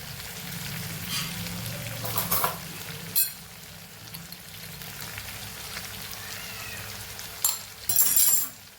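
Okra with potato, garlic and ginger cooks in a pan, a steady crackling sizzle with a few louder clattering stirs of a utensil against the pan.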